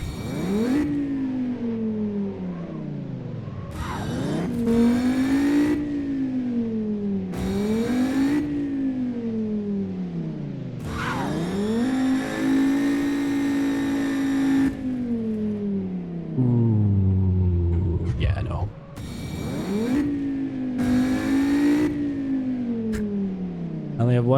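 A car engine on a track climbs through repeated rising revs, each pull cut by a quick shift before winding up again, loud and continuous for the whole stretch.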